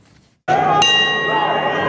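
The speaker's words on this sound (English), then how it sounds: "From the opening bell, Chris Lindsay came out of his corner like a sprinter out of the blocks in the 100-meter dash" Opening bell of a USKA Fight Night boxing match in Hamburg, a loud metallic clang that rings out sustained after a brief quiet moment.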